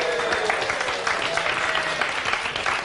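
A studio audience gives a continuous round of applause, with dense, even clapping that holds steady at close range for about three seconds.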